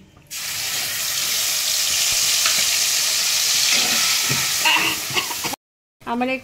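Spice paste for a pointed gourd curry sizzles loudly in hot oil, a steady dense frying hiss with stirring, ending in a brief gap and a short burst of voice.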